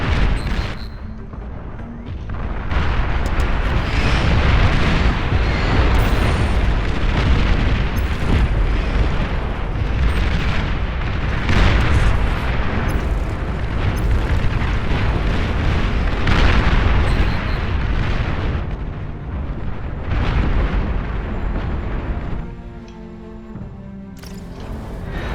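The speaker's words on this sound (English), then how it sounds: "I blind fired that nuke" Nuke blasts and heavy explosions in the Beyond All Reason strategy game, a long continuous roaring rumble of booms and bursts that stays loud for over twenty seconds before tapering off.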